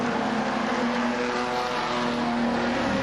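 Race cars circling a track in a 10-lap heat race, a steady, distant engine drone with a sustained tonal hum that holds evenly throughout, no voices.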